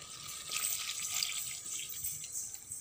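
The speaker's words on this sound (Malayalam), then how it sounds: "ഇനി ആവശ്യത്തിന് വെള്ളം ഒഴിച്ച് കൊടുക്കാം." Water being poured into a pot of Kottayam-style fish curry, a soft continuous splashing and trickling pour, close but fairly quiet, with no speech over it.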